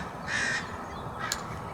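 Crow calls from a large bird being mobbed by small birds outdoors: a harsh caw near the start, then a shorter sharper call about a second later, over steady background noise.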